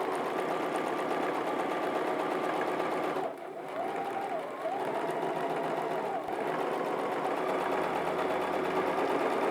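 A sewing machine quilting a Frozen Olaf quilt panel runs in a fast, steady mechanical whir, close and continuous, with a brief slowdown partway through before resuming at full speed.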